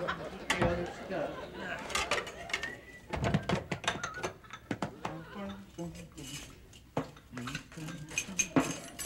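Dishes and cutlery clatter and clink in a kitchen, a run of sharp close knocks and scrapes scattered throughout, with people talking over the handling.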